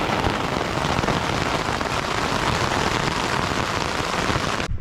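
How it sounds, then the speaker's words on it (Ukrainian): Heavy rain pouring down in the Carpathian mountains on a hiking trip, a dense, constant roar of drops hammering surfaces close by with no pauses. "Дуже завчасно ми склали палатку, так як почалася злива."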